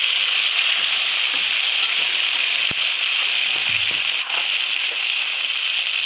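Vegetables, tomato and bay leaf frying in hot oil in a pan with salt and turmeric, a steady dense sizzle running throughout at close range with a few faint clicks.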